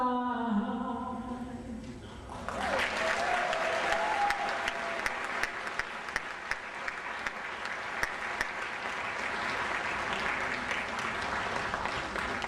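After a brief musical passage, an audience at an MLK Jr Day 2011 gathering breaks into sustained applause for Pastor Juliet Hemphill's song, a broad, even crackle of many hands that carries on steadily.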